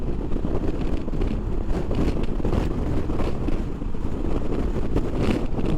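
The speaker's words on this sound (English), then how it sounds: "It's also really quite windy." Steady wind buffeting a microphone while a vehicle drives across a large body of open water connected to the ocean, a continuous low rumbling roar that stays loud and unbroken throughout with no voices.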